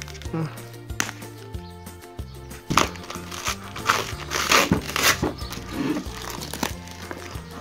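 Packaging of a Ulefone Power 3S phone being torn open and unwrapped: a few crinkling, crunching rustles, mostly between roughly three and six seconds, partly buried under steady background music.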